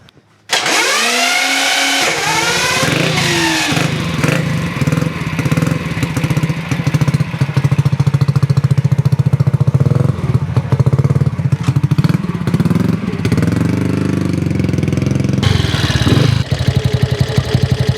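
A vintage motorcycle engine runs on rollers in a workshop, catching at the start and then holding a loud, steady, close drone with a rough, buzzy exhaust note that stays even to the end.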